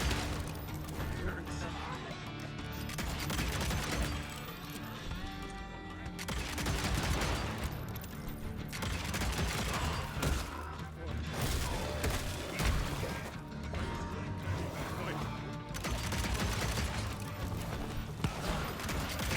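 Rapid automatic gunfire from the video game Evil West, with dense, continuous bursts of shots and impacts filling the mix loudly throughout, mixed with game effects and explosions.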